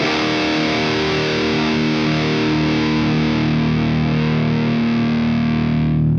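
Electric guitar played through a Revv G3 distortion pedal on its red high-gain setting, a loud, tight, saturated sustained chord ringing steadily alone for several seconds.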